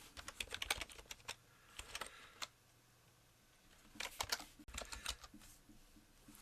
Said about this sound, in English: I typed in the wrong email address